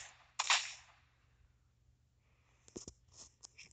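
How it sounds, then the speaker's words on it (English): Video game gunfire: one sharp, loud shot cracks out and fades, then after a pause a quick cluster of fainter clicks and snaps follows. "Someone is shooting at me."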